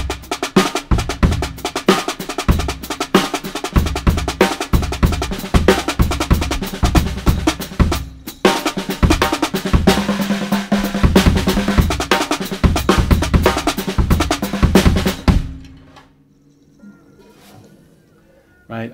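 A drummer plays a busy pattern around the toms of a kit, including a 10-inch maple and mahogany tom, with dense rapid hits that stop abruptly into near silence.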